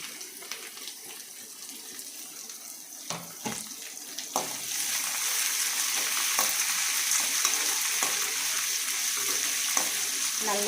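Onions sautéing in a pan, with a few scattered clicks and stirring knocks before a dense, steady frying sizzle swells up and continues close and loud.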